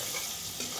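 Onion and curry leaves crackle in hot oil with asafoetida and turmeric for a corn vaghariyu tempering, a dense continuous sizzle under faint stirring.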